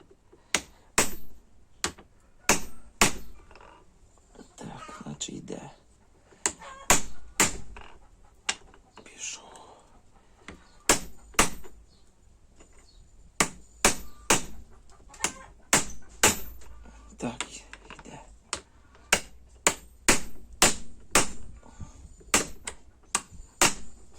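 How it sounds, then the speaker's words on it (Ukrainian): Sharp metal hammer strikes drive the rear control arm bushing out of a VW Caddy suspension arm with a sized driver, some in quick pairs and bursts, others spaced apart, loud and close over a quiet workshop. "Молоточок. І пробуємо його випресувати."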